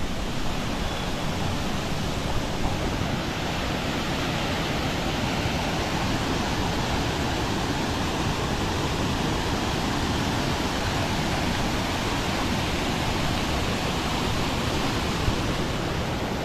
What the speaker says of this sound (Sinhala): මේ දින්නේ වේවැස්ස දියැල්ල